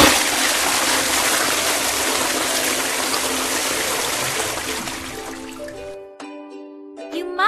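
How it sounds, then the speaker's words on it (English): A cartoon toilet flush in the My Baby Unicorn mobile pet-care game, a loud steady gush of water for about six seconds that drains away, followed by a short bright chiming jingle. "Can you flush the toilet?"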